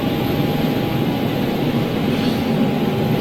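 Boeing 747 under tow at Schiphol airport, a steady, fairly loud broadband rumble with a faint constant tone above it, distant engine-like noise and no speech.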